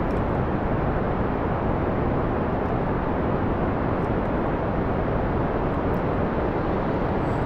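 A rocket's booster engines roar during ascent in Kerbal Space Program at 6.4x scale, a dense and steady broadband rumble that stays loud and unbroken throughout with no voices.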